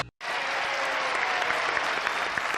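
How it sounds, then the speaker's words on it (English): Studio audience applause during a game show, steady and full after a brief silent gap at the start, sustained clapping from a crowd with no voices. "Man applauding himself over here is our champion, Michael Dolan"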